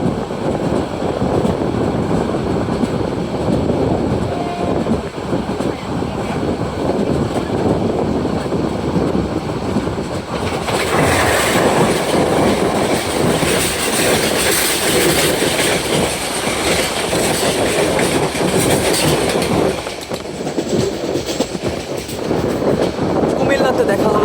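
Upakul Express intercity train bound for Noakhali rushing past at speed, a loud, close roar with rhythmic wheel clatter that swells and surges midway, as heard from a neighboring train crossing it.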